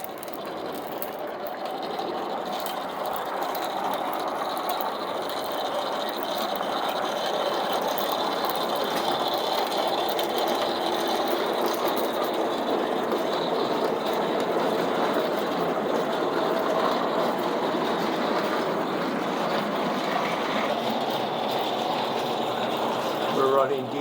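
A vintage 1908-10 Voltamp 2-inch gauge electric steam-style model engine runs on two-rail DC track, giving a steady, unbroken mechanical whirr and rattle that lasts throughout.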